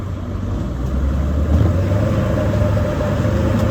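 A Jeep engine towing a trailer gives a steady, loud low rumble with a constant hum, close and uninterrupted, with no voices.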